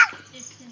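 A voice imitates a dog's bark with one short, close yelp that fades quickly.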